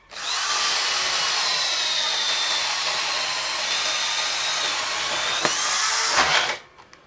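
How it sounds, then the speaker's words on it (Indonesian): A DongCheng DJZ10-10 electric drill with an 18 mm spade bit whines steadily as it bores through a meranti wood beam, a loud continuous high-pitched grind lasting several seconds before cutting off abruptly. "kita akan coba ya bor listrik ini DJZ 1010"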